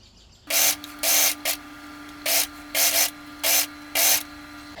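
A sewing machine stitches a dress seam in short repeated bursts, about seven quick whirring runs separated by brief stops over a steady motor hum, close and alone.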